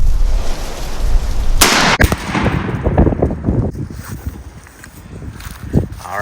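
A single loud, close shotgun blast from a Winchester Long Beard XR shell, fired during pattern testing at 20 yards, cracks sharply and then rings out, with speech following afterward.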